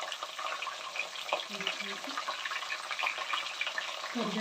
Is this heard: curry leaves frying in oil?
yes